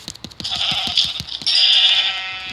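Sheep bleat repeatedly in Minecraft, with quick clicking taps underneath and a sustained bright tone joining midway.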